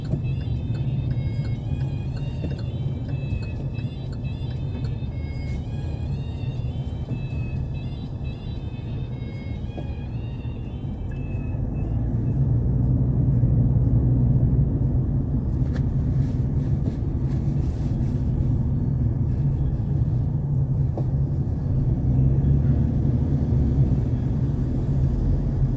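Car cruising on a Korean expressway between Hanam Dream and Yeoju rest areas, a steady low road and engine rumble with tyre roar that swells louder partway through as the car changes lanes.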